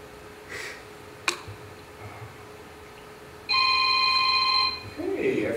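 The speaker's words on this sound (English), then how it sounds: "Hey, I forgot to silence my phone." A mobile phone ringtone chimes in a short burst of bright repeated tones during a talk on Android development, faint room noise and a click before it.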